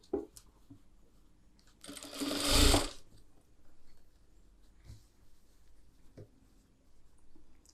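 A sewing machine runs in one short, fast burst of about a second while stitching a collar neck blouse, loud and close, with scattered light clicks and handling noises in the quiet before and after.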